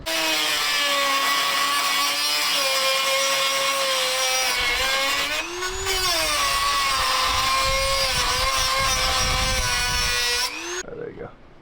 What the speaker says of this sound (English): we're just gonna have to cut the top of the bolt right there where we have access with Sawzall